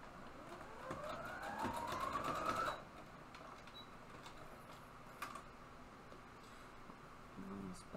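Sewing machine running a short burst of stitching, a rising motor whir for about three seconds, followed by quieter handling noises and a brief voice.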